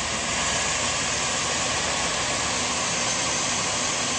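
A 1998 Chevrolet Silverado 1500 Z71 extended-cab pickup idles with its engine running, heard as a steady, loud and unchanging roar that fills the whole stretch without any voices.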